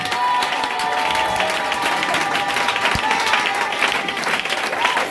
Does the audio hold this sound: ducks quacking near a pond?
no